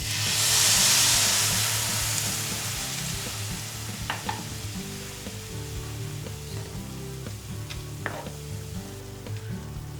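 Stew of softened vegetables and tempeh with flour and white wine just added, sizzling loudly in a pan with a steady hiss, a brief steam burst at the start and occasional stirring clinks and scrapes.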